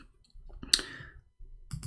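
Typing on a computer keyboard, heard as a few close, distinct key clicks in short separated bursts, with one sharper tap standing out.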